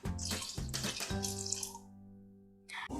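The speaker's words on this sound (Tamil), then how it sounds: "புளி தண்ணி நம்ம இப்போ ஊற்றிட்டோம்." Tamarind water poured into a pot of bisi bele bath curry, a close, steady liquid splash and trickle that thins out and pauses before a brief final splash.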